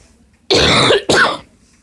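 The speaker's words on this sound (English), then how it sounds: "Right now, I'm sick with bronchitis. That's why I'm coughing." Two loud, harsh coughs from a person sick with bronchitis, close to the mic, one right after the other, followed by quiet.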